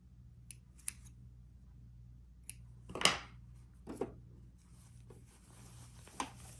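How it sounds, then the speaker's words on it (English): Sewing thread is snipped with scissors while a bowtie is being sewn. A few faint, isolated clicks lead to one sharper, clear snip in the middle and a couple of light clicks afterward, all quiet and close, with no talking. "cut your thread"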